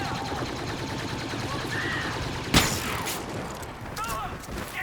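Rapid blaster fire keeps going in a Star Wars Battlefront match on the Scarif map, with one sharp louder blast near the middle, under dense game sound and someone speaking.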